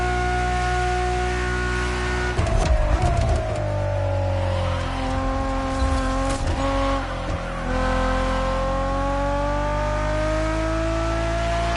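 A Ferrari Enzo supercar engine in The Crew Motorfest holds a loud, steady tonal whine that dips and climbs again with gear changes, with brief louder blips along the way and no talking.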